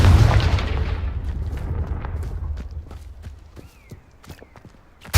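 A Confringo fire blast spell goes off in the Hogwarts Legacy video game: a loud, booming burst opens, then a rumbling tail slowly fades, with scattered sharp clicks and a brief whoosh near the end.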